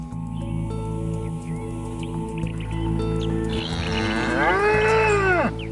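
Dairy cattle on a milk farm give a long, loud, close moo that rises and bends near the end, over a steady background hum and faint wet squelching sounds.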